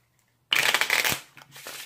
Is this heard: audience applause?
no